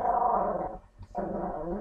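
Puppies play-wrestling let out a sustained growl that drops away for a brief moment before resuming just as strongly, close and fairly loud with no talking.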